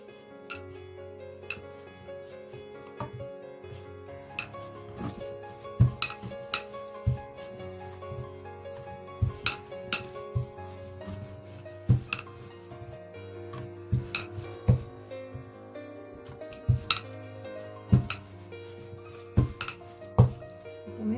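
Keema paratha dough is rolled out with a rolling pin on a board. Soft rubbing strokes repeat with sharp wooden knocks and clicks in an uneven rhythm, close and fairly quiet.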